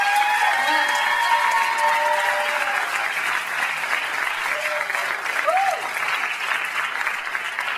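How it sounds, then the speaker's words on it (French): An audience at a solo song contest semi-final applauds the participants, dense continuous clapping holding steady from start to finish with a faint voice briefly over it. "j'aimerais ça vraiment qu'on donne une bonne main d'applaudissements pour les participants"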